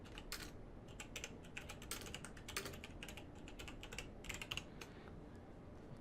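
Rapid, uneven clicking of keys on a computer keyboard as text is typed, quiet and close, with short bursts and brief pauses and no voices.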